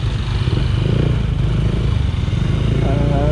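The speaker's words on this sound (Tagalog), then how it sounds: "Yun yung tunog niya, X6 pipe." A Honda Click 125 scooter fitted with an X6 exhaust pipe idles and burbles with a steady, throaty low rumble close by, with a voice talking over it.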